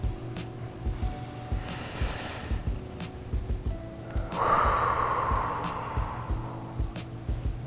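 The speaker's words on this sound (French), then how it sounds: "on va prendre 3 grandes respirations en fermant les yeux" Children breathe in deeply together with eyes closed during a classroom relaxation exercise, one long airy inhale-exhale swelling midway over a low steady background hum.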